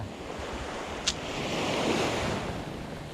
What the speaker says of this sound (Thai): มีทั้งกระแสลมแล้วก็กระแสคลื่นครับ